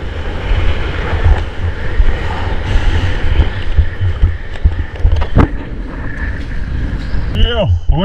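Strong wind blows across a surf beach, buffeting the microphone with a constant low roar and gusty rumble throughout, with a few brief thuds and a whistling tone near the end.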